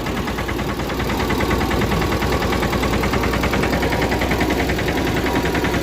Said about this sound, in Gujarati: મને ટ્રેક્ટર હાલ્યું જાય ધીરે ધીરે